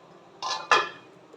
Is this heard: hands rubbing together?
no